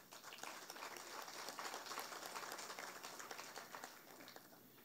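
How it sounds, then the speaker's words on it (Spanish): An audience at the inauguration ceremony of a cultural and polytechnic center applauds after a folk dance group's performance, a dense, even wash of clapping heard from a distance and fairly faint. "Reiteramos fuerte los aplausos."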